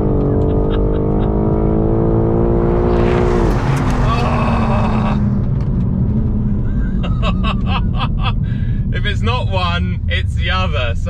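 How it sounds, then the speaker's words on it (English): BMW M4 Competition launching hard off the line with tires spinning and smoking; loud engine roar with rising revs, then a burst of broadband tire noise and squeal-like chirps, with people talking over it. "Oh, I'm just smoking my tires up now."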